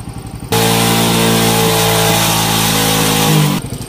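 A Suzuki Shogun 125 motorcycle with an ignition short, running without DC current or a rectifier, idles loudly and steadily for about three seconds with a buzzing, uneven tone, set between short stretches of faster rhythmic engine chugging.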